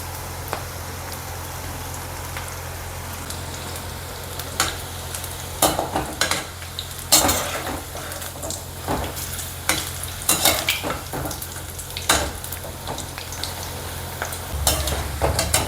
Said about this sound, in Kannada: ನಾನು ಪಕೋಡನ ಹಾಕ್ಕೊತಾ ಇದ್ದೀನಿ.